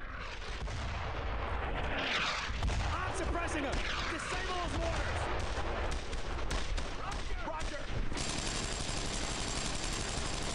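Machine gun and mortar fire in the World War II video game Brothers in Arms: Road to Hill 30, with rapid bursts and heavy booms echoing repeatedly, some distant, some close, under intermittent talking voices.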